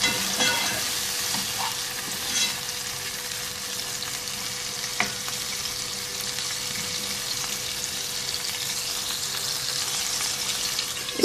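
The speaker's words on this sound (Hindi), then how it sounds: "दो से 3 दरमियाने साइज़ के टमाटर बारीक कटे हुए। चम्मच चलाएंगे इसमें।" Finely chopped tomatoes sizzle steadily in a frying pan while a spoon stirs through them, a constant soft crackle with a few light scrapes and knocks, close and moderately quiet.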